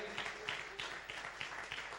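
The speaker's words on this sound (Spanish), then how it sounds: "¿Cuánto le dan un aplauso al Señor?" A church congregation applauds the Lord during a service: a quiet, steady wash of many hands clapping with a loose rhythmic pulse, heard from a slight distance and continuing without pause.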